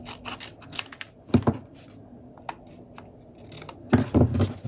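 Scissors cut through a vellum paper tag for a junk journal, with close, crisp snips and paper rustles in a few bursts, no talking.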